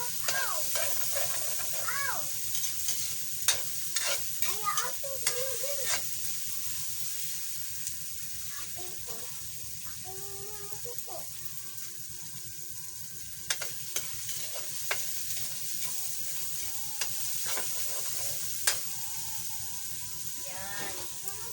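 Fish and taro stems (takway) fry in a pan for ginataang takway, a constant faint sizzle with the scrape of a utensil stirring, while voices talk in the background at times.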